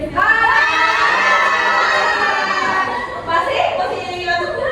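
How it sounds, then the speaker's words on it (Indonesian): A classroom of high-school students shouts together with raised hands, a loud, sustained collective yell of young voices lasting several seconds before fading into chatter. "angkat tangan kalian semuanya ke atas sambil teriak"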